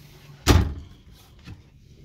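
A wardrobe door in a 2006 Phoenix Cruiser 2950 RV bangs shut with one close, sharp thud, followed by a fainter knock about a second later, then quiet.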